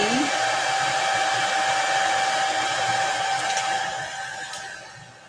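Hair dryer blowing on glow-in-the-dark chalk paste on an upcycled markdown sign, a steady loud whooshing hum close by, fading slightly toward the end, with no talk over it.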